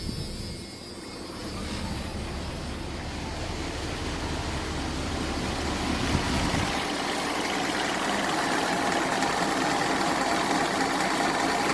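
A 1986 Ford F250 pickup with a 460 cubic inch 7.5L big-block V8 starts and settles into a steady, loud idle, its deep rumble growing fuller after a few seconds with a constant broadband roar over the whole stretch.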